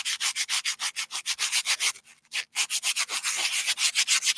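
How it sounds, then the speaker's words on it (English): Hand sanding with sandpaper along the edge of a cast piece: fast rhythmic back-and-forth rasping strokes, close and steady, with a brief pause midway before the scrubbing resumes. "It's just literally sandpaper."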